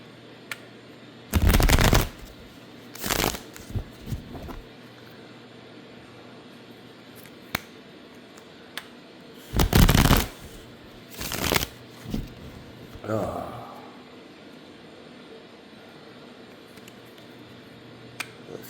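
A deck of reading cards is shuffled in several loud, brief riffling bursts separated by quiet pauses and small handling taps, close and alone without talk.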